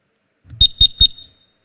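At a university capital-market quiz contest, a buzzer sounds three quick, evenly spaced electronic beeps, loud and clear against silence.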